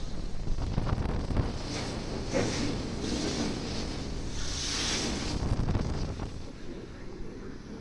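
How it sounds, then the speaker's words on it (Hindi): Strong cold wind gusting across the open deck of a TT-Line ferry sailing from Belgium to Sweden in rough weather, a steady loud roar and buffeting on the microphone with water and waves beneath, no talking. "ठंडी हवा बहुत चल रही है।"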